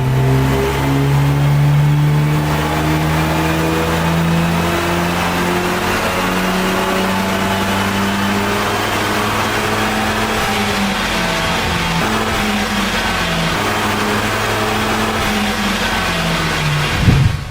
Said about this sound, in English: So a couple of runs on the dyno in stock form.